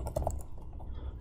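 Soft, close clicks of keys on a computer keyboard tap out a quick short burst, quiet and alone without any talk.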